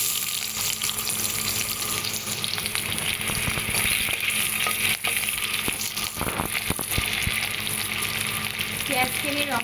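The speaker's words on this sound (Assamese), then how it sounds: "পিয়াজখিনি ৰঙচুৱা হোৱালৈকে এতিয়া ভাজিব লাগিব" Onions fry in mustard oil in a hot wok, giving a constant close sizzle and crackle with occasional stirring scrapes and clinks, loud and unbroken for the whole stretch without talk.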